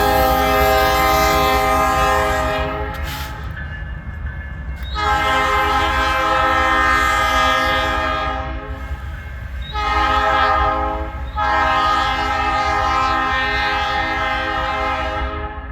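CN freight train K773 arriving at Ladysmith, Wisconsin, sounding loud sustained horn blasts in a long-short pattern over the steady rumble of the approaching locomotive and cars, with no talk.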